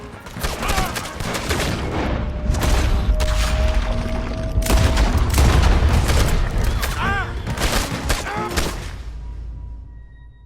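Gunfire in the video game Red Dead Redemption 2: a loud, sustained fusillade of shots and booms over dense game noise, with shouting voices mixed in.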